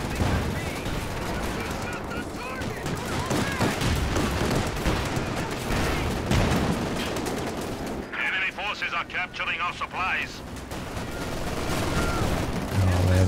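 Light machine gun fire in the strategy game Company of Heroes 2, dense rapid bursts over a constant din of other battle gunfire and explosions, with a commentator talking throughout.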